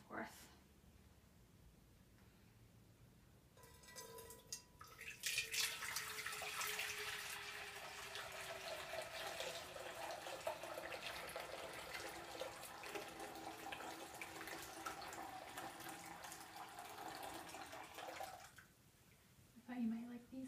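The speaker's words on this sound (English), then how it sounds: "I'm cooling it down by pouring it back and forth" Hot sweet tea for kombucha is poured back and forth between containers to cool it, a continuous close splashing stream lasting over ten seconds, with quieter handling before and after.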